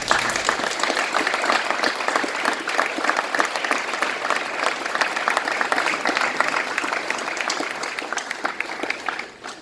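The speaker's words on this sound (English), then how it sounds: "please give them a round of applause" Sustained applause from a standing audience at a coaching event, dense and steady clapping filling the room for nearly ten seconds before cutting off abruptly.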